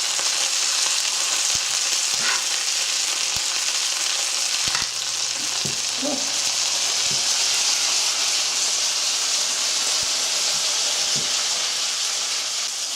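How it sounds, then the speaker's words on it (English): Walleye fillets fry in hot sauce in a very small pan, a steady loud sizzle and hiss throughout with occasional faint clinks and stirring, no voices. "I have been using this really small fry pan"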